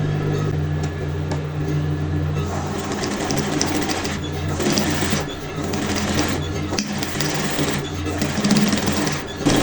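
A sewing machine stitches embroidered fabric onto the bodice of an evening dress, giving a steady mechanical whir with short pauses and restarts, close and prominent.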